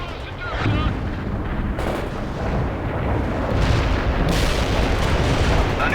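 Artillery fire support in World in Conflict, heard as loud, dense rumbling barrages and booming impacts that roll on continuously, swelling near the end.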